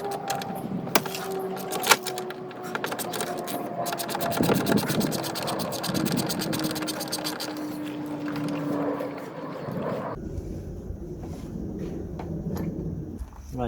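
A ratchet works loose 10mm bolts on a Honda Jazz tailgate, giving close, continuous rasping clicks with a few sharp knocks, then the ratcheting stops and only quieter background noise remains.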